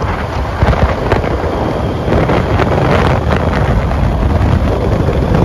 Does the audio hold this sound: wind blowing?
yes